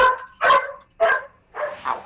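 A dog gives several loud, close barks in a quick irregular burst, each sharp and full, with short gaps between them.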